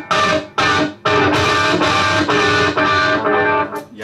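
Heavily distorted electric guitar, a Japanese-made Mosrite Ventures model with maple body and EMG pickups, chugs out loud, crunchy metal chords in short rhythmic stabs, then sustained grinding tones.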